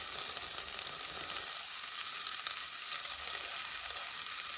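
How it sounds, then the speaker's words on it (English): Onions fry and soften in a pan for pan-fried masala fish, giving a loud, continuous sizzle close to the mic with brief stirring swells and no voices. "let those onions soften before you add any garlic"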